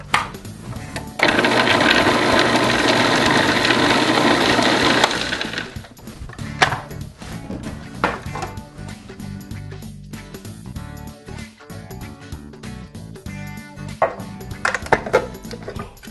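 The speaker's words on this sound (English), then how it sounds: "go ahead and just put these right into our processor. I'm going to turn it on just for a few seconds." Food processor mincing kale leaves, a loud steady whirring motor for about four seconds, followed by softer clattering and handling noises of the bowl and blade.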